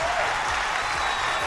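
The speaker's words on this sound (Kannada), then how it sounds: "ಇಲ್ಲಿ ಜೋರಾಗಿ ಚಪ್ಪಾಳೆ ಹೊಡೀರಿ." Studio audience on a television comedy show stage breaks into loud, sustained applause, a dense wash of clapping that fills the whole moment with no speech over it.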